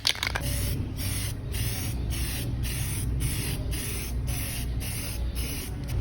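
Samurai silver spray paint hisses from an aerosol can onto a scooter radiator cover, a close, steady spray that stops for very short breaks in a regular rhythm of quick bursts.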